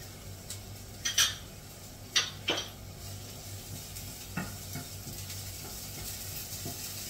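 Chinese cabbage (pechay) sizzles in a pan as it browns. Scattered metallic clinks and scrapes of stirring sit over a soft, constant frying hiss.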